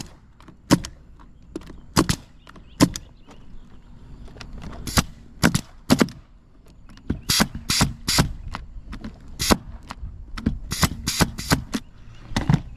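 Pneumatic nail gun driving nails through 3-tab asphalt roofing shingles, one at each end and two at the tabs: sharp, loud percussive shots, single and in quick bursts, spread over a quiet background with no talk.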